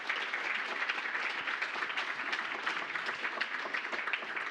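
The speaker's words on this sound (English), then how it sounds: "Help me with giving a huge amount of applause to those two." An audience at a PyCon DE & PyData Berlin conference applauds two workshop presenters with sustained, dense clapping that holds steady and loud throughout.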